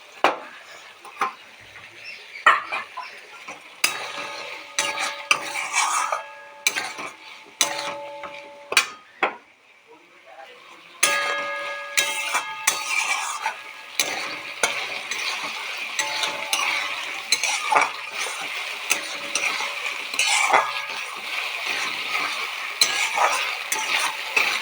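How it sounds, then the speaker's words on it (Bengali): Green peas and potatoes frying in a wok over low gas, a soft sizzle under repeated scraping and clinking strokes of a metal spatula against the pan, fairly close and steady. "কড়াইশুঁটিগুলো একটু ভাজবো, ভেজে তারপর আলুগুলো দেব।"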